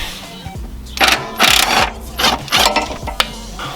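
Ratcheting clicks from a socket wrench loosening a car subframe bolt during installation of RHD Performance subframe collars come in several short bursts, close and fairly loud, separated by brief pauses and a couple of sharp metallic knocks.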